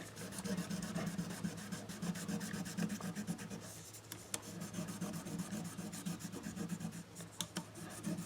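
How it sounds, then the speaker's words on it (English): Folded 1000 grit sandpaper rubs guitar fret ends in a soft, quiet rasping rhythm of repeated short strokes, close up, with a steady low hum beneath and no talking. "this is just some 1000 grit sandpaper that I've folded over a couple of times"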